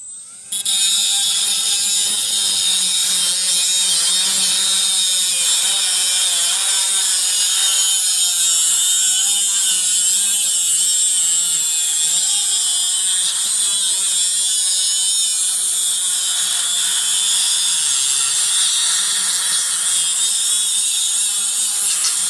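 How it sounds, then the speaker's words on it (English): An angle grinder cuts away a glob of welded metal from a trailer gate, holding a loud, continuous high-pitched whine for over twenty seconds after a brief start, with no voices. "And now I'm going to try the other grinder."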